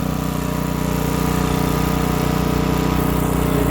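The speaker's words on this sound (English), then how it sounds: "You'll see me squeeze it, the blades start going." A DR Premier 26 walk-behind mower runs steadily with its blades engaged, a loud continuous engine drone with a pulsing low hum that holds even throughout, close and alone with no voices.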